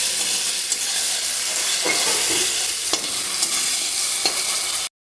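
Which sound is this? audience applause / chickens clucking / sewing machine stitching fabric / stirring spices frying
stirring spices frying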